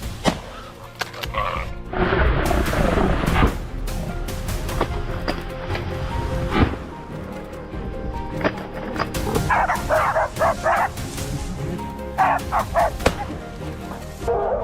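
Hunting dogs bark repeatedly at a distance in a forest amid rustling and outdoor noise, with sharp yips and bursts growing more frequent toward the end.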